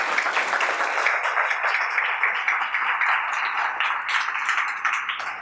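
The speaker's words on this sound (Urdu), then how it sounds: "زوردار تالیاں بجائیں خدا کے لیے۔" A church congregation at a live Sunday sermon in Pakistan applauds loudly, dense steady clapping from many hands that stays strong throughout and fades slightly at the end.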